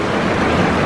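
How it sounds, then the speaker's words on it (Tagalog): Steady rain falls and drips from a roof, a close, dense, continuous wash of water with no voices. "Umuulan guys."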